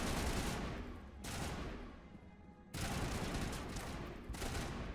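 Assault rifle gunfire in the video game Mass Effect, with sustained rapid automatic bursts close and loud, broken by a brief lull before firing resumes.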